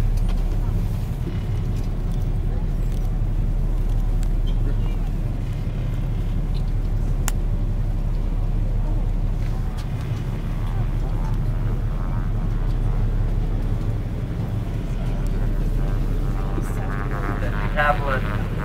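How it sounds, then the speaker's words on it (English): A Beaver float plane's engine roars steadily from a distance across the water near Ketchikan, a continuous low drone lasting the whole stretch. "float plane, and they take off"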